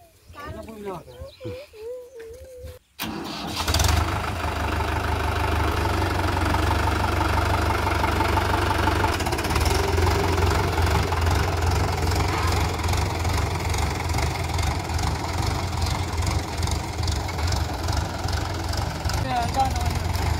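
A tractor engine starts up and then runs with a loud, steady low rumble and knocking chug, close by; voices are heard briefly before it starts.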